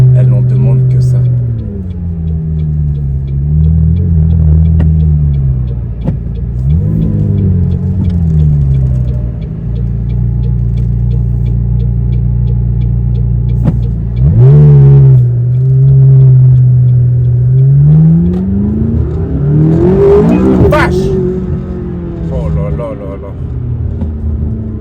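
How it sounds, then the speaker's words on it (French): A McLaren 570S sports car engine drones and surges, its pitch climbing through hard acceleration runs with a gear change, loud and close, while someone talks in French over the engine noise. "l'accélération, elle est vraiment brutale. Elle est très très forte."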